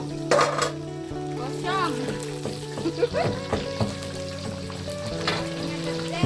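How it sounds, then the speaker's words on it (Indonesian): Sweet potato frying in a pan over a high flame gives a steady sizzle, with stirring scrapes and utensil clinks. Short sharp knocks break in now and then, and one brief word is spoken. "Goreng ubi nggak boleh besar api."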